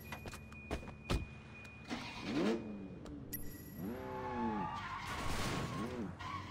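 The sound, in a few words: fast car engine driving in Sleeping Dogs video game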